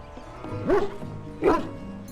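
Two distinct barks from a hound in the Dragon Age Origins video game, spaced about a second apart, fairly close and clear against a quiet background.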